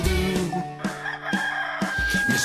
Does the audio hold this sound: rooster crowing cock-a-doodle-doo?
yes